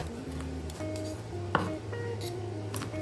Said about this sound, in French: L'origan, je lâche grossièrement.